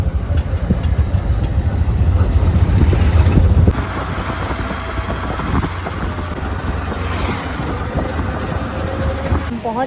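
Ravana Falls in Ella, Sri Lanka, gives off a loud, continuous rushing roar that stays steady throughout, dropping slightly partway through. Faint voices may sit underneath.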